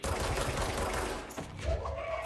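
Gunfire-like blasts and explosions from the Charge ability in the video game Control, a dense, loud barrage of overlapping bangs that eases off briefly and then flares again against a group of enemies.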